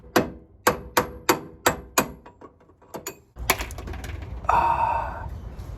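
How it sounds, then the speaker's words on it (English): Hammer blows knocking a seized ball stud out of the pitman arm of a 1965 Ford Mustang, about nine sharp metallic strikes in a steady rhythm, the later ones softer, followed by clattering and scraping with a brief high squeal near the end. "now I'm going to try to hit out the ball stud because it's been stuck in there"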